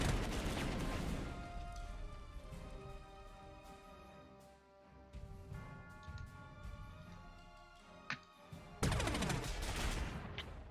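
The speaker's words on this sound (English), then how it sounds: "We are going to do artillery" Gunfire and artillery blasts from the strategy video game Panzer Corps 2, in a Spanish Civil War scenario at Seville, come as rapid shots and sharp bangs, with a loud burst near the end.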